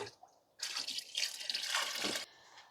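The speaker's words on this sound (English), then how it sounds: "Once you have your nutrient solutions dissolved, you just come and add them in to your reservoir" Nutrient solution is poured into a hydroponic reservoir tote, making a steady, fairly loud splashing pour of about a second and a half that follows a few faint drips and is followed by quiet.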